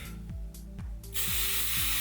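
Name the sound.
hairspray being sprayed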